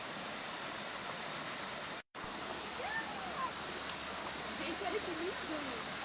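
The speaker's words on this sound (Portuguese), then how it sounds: "Olha uma cachoeira" A waterfall rushes in a steady, broad roar close by, briefly cut once, while people talk faintly beneath it.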